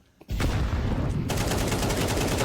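Rapid, loud gunfire in a Counter-Strike match between Into the Breach and 9INE: a dense, sustained burst of rattling shots that starts abruptly and keeps going.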